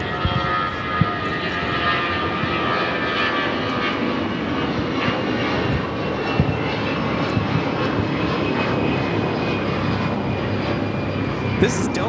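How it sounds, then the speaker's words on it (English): A Delta Airlines Airbus A319 roars on its takeoff run at LAX, bound for Dallas Fort Worth, a loud, steady broadband engine rush with whining tones that holds for the full stretch. "This is Delta Airlines 521 taking off to Dallas Fort Worth on the A319"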